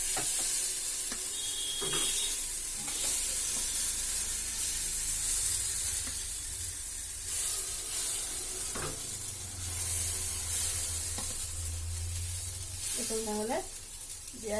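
Mini idli batter with vegetables sizzles steadily in a pan dotted with small drops of oil, a continuous fry hiss with brief clinks of a utensil and a voice speaking now and then.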